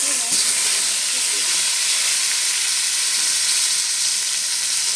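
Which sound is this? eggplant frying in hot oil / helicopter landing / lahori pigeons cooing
eggplant frying in hot oil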